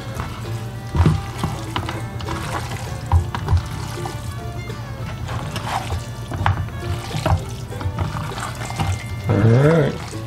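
Hot and spicy jerky marinade being poured into a container of meat, a wet liquid splashing and trickling sound with some handling noises and a brief voice near the end.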